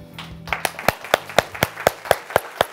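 Claps for a quiz winner on a family TV program, heard as about nine distinct, evenly spaced hand claps close by, following a brief muffled stretch at the start.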